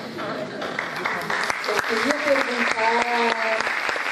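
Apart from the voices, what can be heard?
audience applauding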